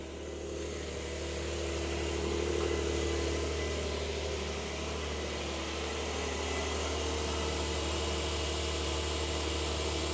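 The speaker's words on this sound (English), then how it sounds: "That is a rambunctious cold start, I will say that, with the sports exhaust of the S." A 2025 Porsche 911 S Cabriolet's twin-turbo boxer six with sports exhaust idles after a cold start, heard from outside the car as a loud, steady, slightly uneven rumble with no talking.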